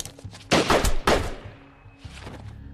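Gunshots in a film, two loud close blasts about half a second apart, each with a short rumbling tail, followed by a quieter muffled thud.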